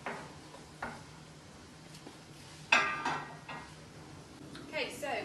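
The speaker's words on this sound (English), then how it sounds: "And you want to start mixing it around and cooking them until they're quite soft" Carrots cooking in a pan while being stirred, with faint sizzling under scraping spoon strokes, a sharper clatter near the middle and more stirring toward the end; a voice speaks over parts of it.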